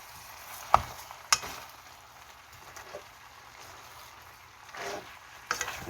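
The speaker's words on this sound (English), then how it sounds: "Again, I have to stir it." Chicken stew with carrots and onions being stirred in a pot, a soft, quiet sizzle with a few sharp utensil clacks against the pot scattered through, no talking.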